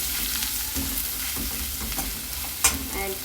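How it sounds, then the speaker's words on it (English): Onion, green chili and curry leaves sautéing in a pan for fish bun filling, a steady close sizzle with scraping stirs and one sharp clink near the end, no voices. "add the onion also, and saute the onion"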